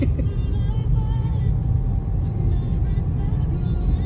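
Slow, congested road traffic at a signal near a mall in the Philippines, cars and motorbikes creeping past with a steady low engine rumble and hum close by, with no talk.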